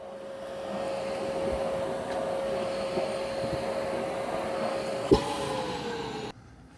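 A Shark PowerDetect vacuum runs on the floor in detect mode with a steady motor whine and airflow hum. There is one sharp knock near the end before the sound cuts out.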